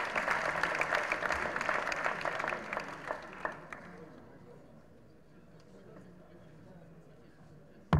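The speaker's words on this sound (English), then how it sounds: "Can I please ask you all to please give him a round of applause?" Applause from a lecture audience, loud at first and then tapering off into a quieter murmur, with some talking mixed in.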